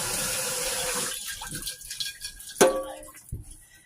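Hot water runs from a tap in a steady gush for the first second or so, then thins out into softer splashing with a sharp knock near the end.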